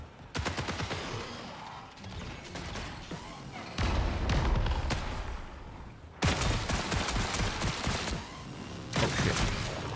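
Rapid pistol shots ring out in the video game ARC Raiders, loud sharp cracks in quick bursts with brief pauses between volleys, close and dominant.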